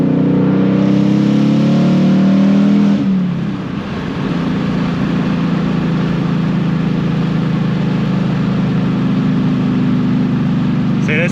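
A Ford Mustang GT, an S550, at full throttle, its engine droning loudly and close, then a brief dip before a steady, powerful roar carries on.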